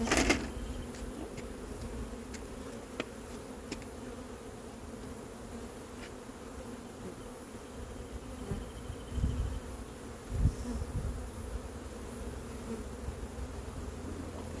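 Honeybees buzz steadily during a hive inspection and comb transfer, a close, continuous drone with a few faint knocks and handling sounds and no talking.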